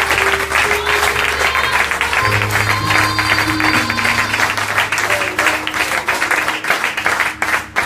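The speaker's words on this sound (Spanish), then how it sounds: "Denle un aplauso pero adorando su gloria" A church congregation breaks into sustained applause, dense clapping that fills the room at a loud, steady level for the whole stretch, with low musical tones sounding underneath.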